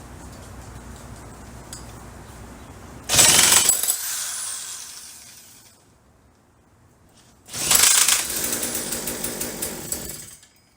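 Poulan Craftsman 2150 chainsaw with the choke on: two loud, close bursts of engine noise as someone tries to start it, each catching for a second or two before dying back to quiet.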